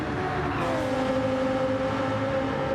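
Race cars lapping the Spa circuit with a Porsche closing in from behind, a steady, loud engine drone with a sustained tonal whine and no break across the stretch.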